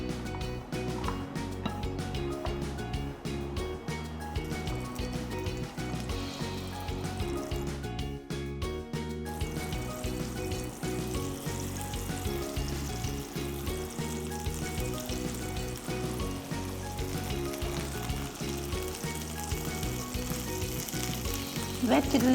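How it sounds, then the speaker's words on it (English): Cheese patties sizzling as they roast in a pan, a continuous crackling fry with a brief pause partway through, steady and close, with no voices. "Firstly we'll start by roasting this cheese patties."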